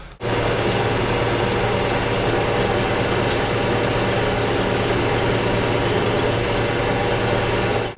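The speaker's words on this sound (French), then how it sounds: "je l'ai mis en route sur le tracteur" An old tractor engine runs steadily on a farm during weeding work, a loud continuous mechanical drone with a low hum and faint knocking, starting abruptly and holding level for the whole stretch with no voices.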